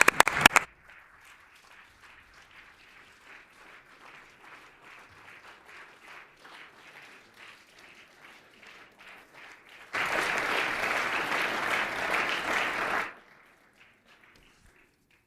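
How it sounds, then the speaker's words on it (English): Legislature members applaud in the chamber, a sharp burst at the start followed by a long spell of scattered clapping, then a louder swell of full applause for a few seconds before it cuts off. "give her a warm round of applause for her many contributions"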